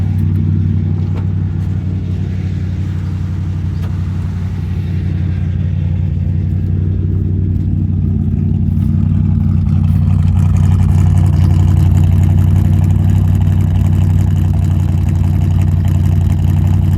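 An old Chevy, Pontiac or Ford engine idling slightly fast, a steady loud low rumble with a constant even drone that holds for the whole stretch, close by and with no voices.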